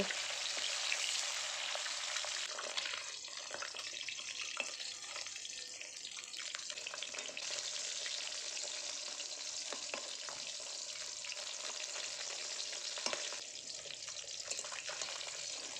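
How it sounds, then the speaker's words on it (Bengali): Small Japanese puti fish fry crisp in a pan of hot oil, giving a continuous loud sizzle close to the pan, with occasional spatters and soft clicks as they are turned. "মাছগুলোকে উল্টে পাল্টে দুদিক ভালো করে কড়া করেই ভেজে নেব"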